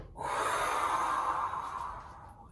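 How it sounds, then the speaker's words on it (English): A single loud, breathy exhale during a yoga exercise is pushed out forcefully through the nose and mouth and lasts about two seconds before fading, heard up close with no talking. "you can go ahead and make a nice noisy exhale"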